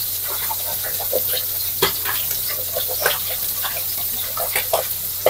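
Small anchovies (teri) frying in hot oil, a steady close sizzle peppered with sharp pops and crackles as the oil spatters, with occasional stirring and no talk.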